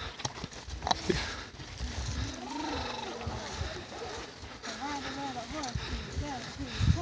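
Steady clip-clop of horse hooves plodding along outdoors, with a person talking over the rhythmic footfalls throughout.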